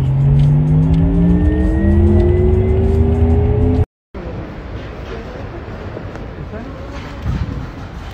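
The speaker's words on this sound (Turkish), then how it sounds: "Araba geliyor, araba geliyor." A car engine drones and rises in pitch as it accelerates near the listener, loud at first and then cut off abruptly, followed by quieter road and ambient noise.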